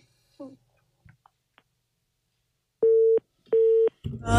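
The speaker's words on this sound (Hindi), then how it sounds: "फोन कट गया और लाइन कट गई" A telephone busy tone cuts in after a call drops on a late-night FM radio phone-in show: two loud, steady, identical beeps separated by a short gap, following a few faint clicks and ending in noise.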